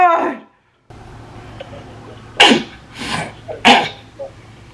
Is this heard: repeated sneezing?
yes